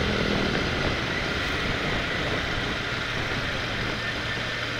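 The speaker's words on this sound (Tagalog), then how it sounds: "Maingay yung tambucho ni Kuya." A small, old motorcycle with a loud exhaust, something like a Lifan or Bajaj, rides along, its engine drone steady, harsh and constant from start to finish.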